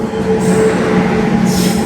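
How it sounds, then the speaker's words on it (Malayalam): A train arriving at a station in Kollam, Kerala rumbles loudly close by, wheels grinding with a faint metallic squeal, steady and continuous with no voices. "നമ്മളെ ട്രെയിൻ വന്നു"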